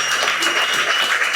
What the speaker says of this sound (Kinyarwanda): Tumukobera amashyi menshi.